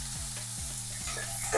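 Onion hits hot oil already crackling with mustard seeds, cumin and garlic for a Tamil moringa sambar, sizzling up close while a utensil scrapes and stirs in quick repeated strokes.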